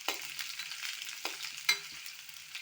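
A green chilli fries in a pan with a soft, steady sizzle and a few quiet stirring taps, faint and close, with no voices.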